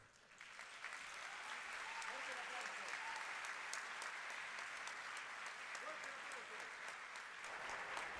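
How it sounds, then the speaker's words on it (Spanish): Banquet guests applaud at an installation dinner for a trade association's new board, with continuous dense clapping sounding fairly distant and faint, some voices mixed in, and a few sharper claps standing out. "Que se escuche ese aplauso."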